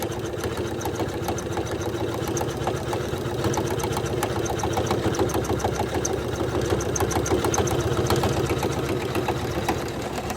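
A Janome 500e embroidery machine stitches a design onto a hat, giving a steady, dense mechanical whir with fast repetitive needle pulses that run continuously and fairly loud from start to finish.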